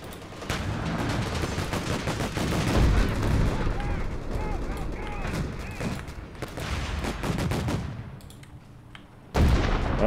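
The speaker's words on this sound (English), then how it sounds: "Where is that mortar coming from?" Mortar fire and artillery blasts in the World War II strategy game Company of Heroes 3, with repeated booming impacts and gunfire crackling through the battle, loud and dense, easing briefly before another sharp burst.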